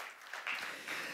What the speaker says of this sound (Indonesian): Yuk kita berikan tepuk tangan yang meriah buat Tuhan Yesus.